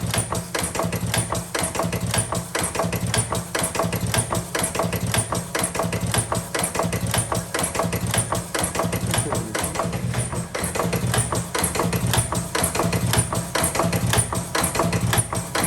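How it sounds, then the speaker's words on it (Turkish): A tobacco rolling and carton filling machine runs at high speed, a steady dense mechanical clatter of rapid tapping over a constant low hum, loud and unbroken throughout. "18 kartona çıkardı makinenin hızını şu anda."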